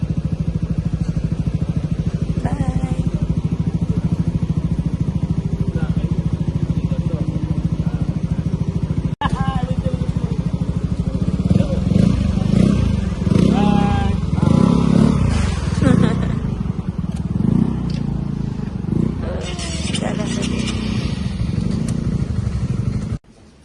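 A Yamaha NVX V2 motor scooter engine runs steadily throughout, a constant mid-pitched drone with louder, rougher revving toward the middle and end, with a voice talking over it.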